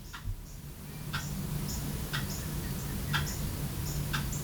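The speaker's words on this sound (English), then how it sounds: "Y'all hear the ticking?" A clock ticks steadily about once per second, a crisp, regular tick-tock sitting over a constant low background hum.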